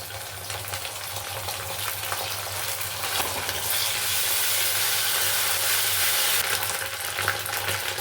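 Ginger and green chili paste goes into onions already frying in oil for mochar dalna (banana flower curry); a steady close sizzle grows louder and brighter midway, with faint stirring and no talk.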